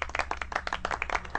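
One person claps in a quick, uneven run of crisp handclaps close by, lasting about a second and a half with no talking.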